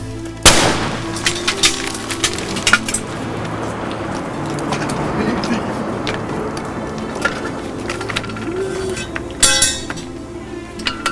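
Military gunfire erupts after a firing command, a sharp loud report at the start followed by scattered cracks and impacts, then a cluster of rapid shots near the end, with no voices.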